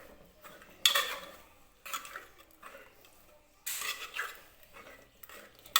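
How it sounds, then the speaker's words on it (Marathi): A spoon mashes soft cooked moong dal in a pot with several short bursts of scraping and clinking, separated by quiet gaps, close and fairly faint. "तर बघा चमच्याने मी व्यवस्थित हे घोटून घेते"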